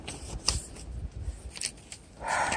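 Paper sheets rustle and flap in the wind outdoors near a small grotto, with uneven crinkling bursts and a gust of wind noise at the end.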